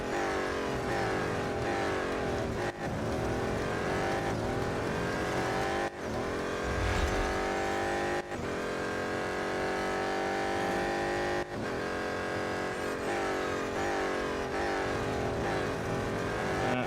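A BMW M Hybrid V8 race car engine in Real Racing 3 roars loudly and continuously, its pitch climbing through gears with brief dips at shifts, and no voice over it.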